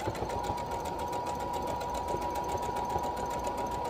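A sewing machine runs steadily while stitching fabric for an infinity scarf, a continuous close whirring drone with a rapid even needle rhythm and no pauses.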